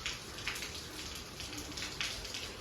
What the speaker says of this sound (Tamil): இன்றைக்கி ஃபுல்லாக எல்லாரையும் இந்த மழை வந்து வீட்டுக்குள்ளேயே அடைய வச்சிருச்சு